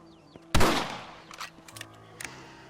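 A single sharp rifle shot in Red Dead Redemption, loud and close with a ringing tail, followed by quieter clicks and handling sounds and a softer knock near the end.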